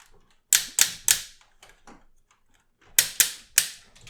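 The waist joint of a Transformers War for Cybertron Unicron toy is turned, giving two bursts of three sharp, close plastic ratchet clicks separated by a short pause.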